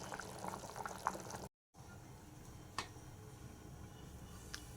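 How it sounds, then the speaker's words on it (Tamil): A pot of vegetable dal boils quietly, with a soft continuous bubbling hiss, a brief gap of silence and a few faint clinks or drips. "நல்லா கொதிக்குது"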